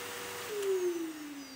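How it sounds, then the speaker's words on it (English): An aircraft cabin vent fan in Microsoft Flight Simulator gives off a steady, vacuum-cleaner-like whine with a tone that dips slightly in pitch over a soft airy hiss. "The vent fan. It just sounds like a vacuum cleaner."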